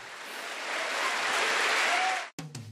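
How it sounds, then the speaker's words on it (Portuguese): A church congregation bursts into applause at a healing service, a dense, steady wash of clapping that swells and holds for a couple of seconds, then stops abruptly before a brief voice. "Vamos aplaudir o Senhor?"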